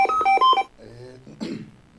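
Telephone keypad tones sound in a Bambara-language radio drama: a quick run of loud, clear dialing beeps, then quieter voices and a brief rustle.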